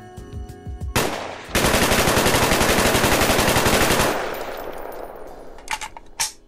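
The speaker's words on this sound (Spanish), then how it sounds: "En mi caso, voy a usar el AK-74 del Call of Duty Black Ops." Sustained fully automatic AK-74 rifle fire from Call of Duty: Black Ops rattles loud and close in a rapid, even burst lasting a few seconds, preceded by a single shot and followed by fading echo and a few metallic clinks.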